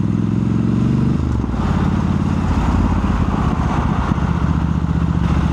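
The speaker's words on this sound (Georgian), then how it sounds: "კი, ბევრად სტაბილურად მუშაობს ძრავი." A small engine runs smoothly after a fresh air filter and new spark plugs, holding a steady, loud, close-up putter with an even rhythm and a slight shift in tone early on.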